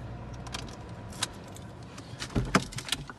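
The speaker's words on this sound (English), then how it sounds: "We have two keys for this car." Keys for a 2017 Vauxhall Astra 1.4i Turbo SRi jangle in a few quick metallic bursts, close and fairly quiet, with the loudest rattles near the end.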